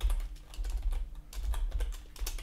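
Rapid typing on a computer keyboard as a directory path is entered on a Manjaro Linux machine, close and crisp, with quick bursts of key clicks and a brief pause midway; no talking.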